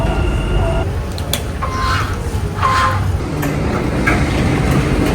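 A Dubai Metro train rumbles steadily along, with continuous low-frequency roar and occasional higher rattles and squeals from the carriage throughout.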